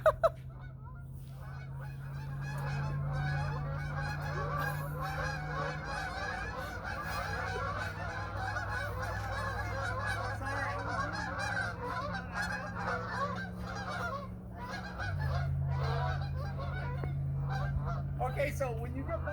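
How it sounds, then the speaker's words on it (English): Geese honk repeatedly over a steady low engine-like drone, likely an RC airplane nearby, with layered calls continuing throughout from a flock passing at moderate distance. "See those geese? They're coming to visit me."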